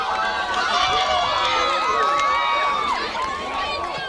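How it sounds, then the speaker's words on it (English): Crowd at a high school soccer game cheering and shouting loudly and continuously right after a goal, with excited voices and whistles layered throughout. "The crowd is going nuts here."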